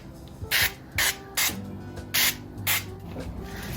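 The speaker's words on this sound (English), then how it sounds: "give it a spray of some cooking oil" Five short hissing bursts from a cooking oil spray can, evenly spaced, close and fairly soft, with faint background noise between them.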